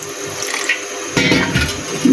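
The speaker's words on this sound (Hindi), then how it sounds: "और पानी इसमें सिर्फ इतना डालूँगी कि ये इसमें डूब जाएं।" Water pours steadily into a pressure cooker over beef for shami kabab, splashing close and loud, with the flow growing heavier partway through.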